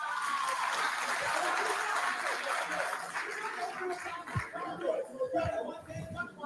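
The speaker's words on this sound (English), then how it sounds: "Clap for yourself." Students in a packed university hall clap steadily at a political youth rally, with scattered chuckles and crowd chatter mixed into the applause, which thins into irregular claps toward the end.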